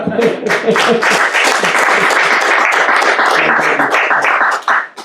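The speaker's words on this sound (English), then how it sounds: "Can we just applaud you for that wonderful talk first?" A lecture audience breaks into loud, dense applause after a talk on corporate lobbying, clapping steadily with some voices mixed in before it fades at the end.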